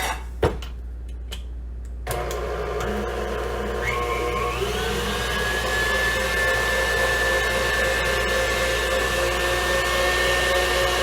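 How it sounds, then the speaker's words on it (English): Electric mixer beating sugar for a lemon pound cake batter; a click, then a steady motor whine starts and runs continuously, loud and close, with shifting tones as the mixture is worked. "I'm going to beat that until that gets to really nice and creamy"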